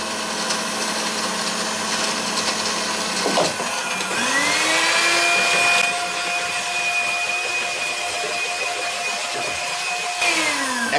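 An electric beater whips a sticky honey and sugar nougat mixture with a loud, continuous motor whine. The pitch dips, then climbs and holds, and shifts again near the end as the speed changes. No one speaks.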